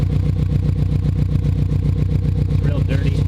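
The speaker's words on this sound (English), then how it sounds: "The exhaust sounds nice." A built Subaru EJ207 engine from a neglected STI idles loud and close, its exhaust putting out a steady, lumpy burble with a regular pulsing rhythm, with a voice faintly under it.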